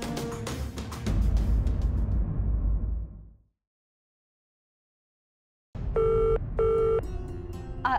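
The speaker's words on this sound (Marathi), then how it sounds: "आई जरा फोन उचलाल माझा." A telephone rings indoors in a home: after a burst of noise and a few seconds of silence, two short tonal ring bursts sound clearly, followed by a steadier tone with background noise underneath.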